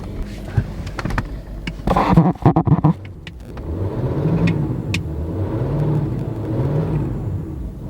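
A Range Rover engine being revved by a mechanic clearing faults, with a sharp rev burst early on, then a steady idle hum that swells gently in a few slower revs, heard close up.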